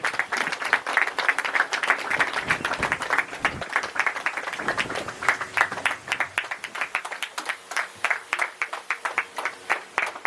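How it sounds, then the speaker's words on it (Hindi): An audience applauds at a community talent award ceremony in Jharkhand, sustained hand clapping with distinct individual claps that thins into scattered, uneven claps toward the end. "मैं चाहूंगा इसके लिए जोरदार तालियां होने के लिए।"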